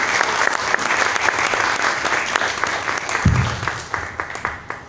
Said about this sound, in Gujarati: આપણે સૌ એમના નવા રૂપને હૃદયપૂર્વક તાળીઓના ગડગડાટથી વધાવી લઈશું